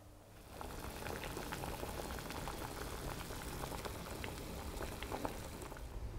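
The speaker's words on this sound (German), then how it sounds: "Und dann kochen wir das Ganze einmal auf und dann lassen wir es nur noch ziehen." Vegetable broth with bay leaves simmers in a pot, giving a soft, continuous bubbling with scattered small pops, faint and steady throughout, with no talking.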